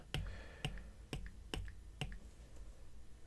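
Tapping on a tablet's on-screen keyboard while entering text in Procreate, about five sharp, faint taps spaced roughly half a second apart, with no talking.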